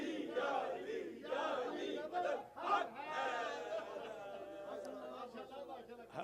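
A crowd at a majlis chants religious slogans together, loud massed voices surging in waves over a steady background murmur of the gathering.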